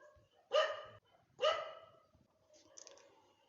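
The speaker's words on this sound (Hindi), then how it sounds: "कुत्ते काफी ज्यादा भौंक रहे हैं" A dog barks twice at close range, two sharp separate barks about a second apart, followed by a fainter short yip.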